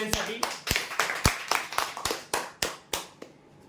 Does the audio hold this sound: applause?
yes